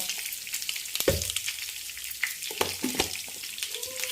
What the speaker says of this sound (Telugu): ఆవాలు, జీలకర్ర ఆవాలు అవి వేగినాయండి